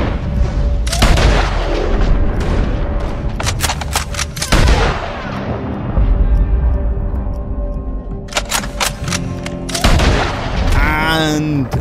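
Loud gunfire from Red Dead Redemption 2, with sharp single shots, booming blasts and rapid volleys ringing out over several seconds during a chaotic fight at Van Horn, while someone talks over the shooting.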